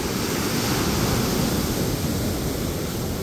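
Ocean waves wash over a rocky beach at Spooner's Cove on California's Central Coast, tumbling stones in a constant broadband roar. The surf sounds close and steady, with no voices.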